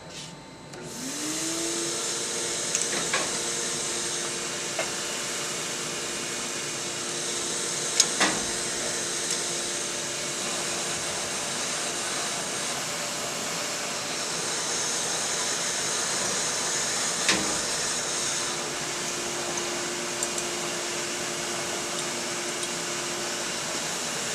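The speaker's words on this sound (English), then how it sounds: "let's turn the vacuum cleaner on and get this thing out of here" A vacuum cleaner whirs steadily after a rising start-up, a constant loud drone with a few faint clicks, no voices.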